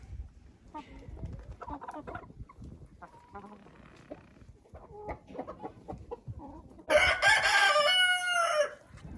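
Chickens in a dry aviary cluck steadily near the microphone, then a rooster crows loudly toward the end, with faint voices and farmyard noise underneath.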